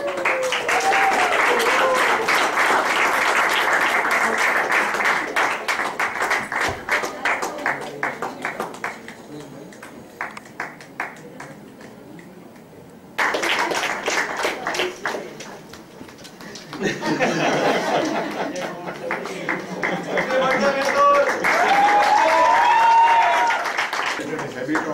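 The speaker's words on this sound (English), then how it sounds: "Please have a round of applause." An audience applauds prize winners at a college campus talent hunt, with sustained bursts of clapping that die down for a stretch and then return, while a voice speaks over the applause.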